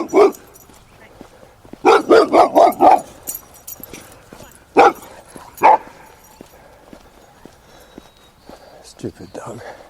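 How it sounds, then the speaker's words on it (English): A dog barks from behind a chain link fence, a close, loud run of several quick barks followed by a few isolated barks, heard alone over faint ambient noise. "Stupid dog."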